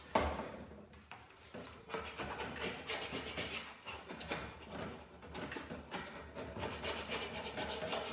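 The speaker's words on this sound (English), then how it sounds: "You can take a little piece of sandpaper and it'll come right off." Sandpaper rubs paint off a metal window lock in short scratchy strokes, a faint rasping scrub repeated in bursts with brief pauses between, close to the listener.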